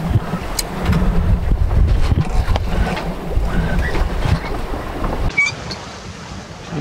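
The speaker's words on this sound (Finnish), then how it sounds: "Vähän turhan myötäinen tuuli" Strong wind buffets the microphone on a sailboat at night, over rushing water and waves, a steady roar with rumbling low gusts that eases slightly near the end.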